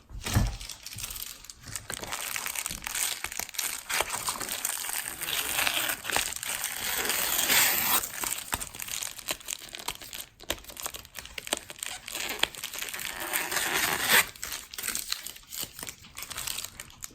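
Paper being cut and folded into an envelope to ship art prints, a close, continuous crinkling and rustling with occasional crisp snips and creases, soft and intimate.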